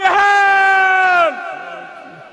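A crowd at a large Sikh commemoration gathering raises a jakara war cry: one loud, sustained shouted call held for about a second before it trails off into the crowd.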